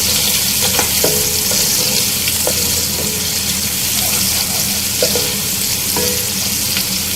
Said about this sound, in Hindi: प्याज को आपको यहाँ अच्छे से फ्राई करना है कि इसका कच्चापन ख़त्म हो जाए